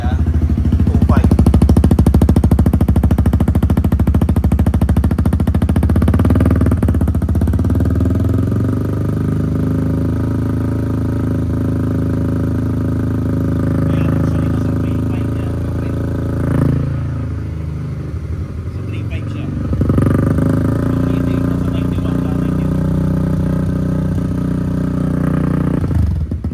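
A new motorcycle's engine is held at high revs in a loud, steady droning whine, dips briefly toward the end, then climbs back up.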